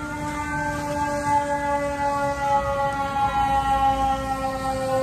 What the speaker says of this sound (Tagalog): may narinig akong siren ng mga fire truck.